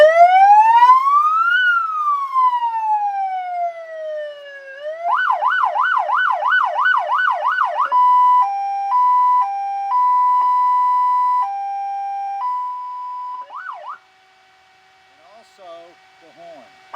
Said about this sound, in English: So I'm going to cut these off and turn the siren on.